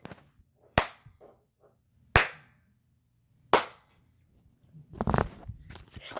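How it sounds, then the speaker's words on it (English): Three sharp, evenly spaced claps ring out alone in a Baldi's Basics fan video game, each loud and crisp with a short tail, followed by a burst of scuffling, clattering noise. "I heard clapping noises."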